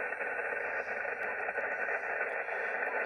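Steady radio static hiss picked up from a real antenna on an AM receiver, a constant loud band of noise with faint crackles and no voices.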